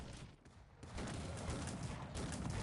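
Cannons fire in a battle in the strategy game Cossacks, a dense, continuous barrage of overlapping booms that swells after a brief lull and stays loud throughout.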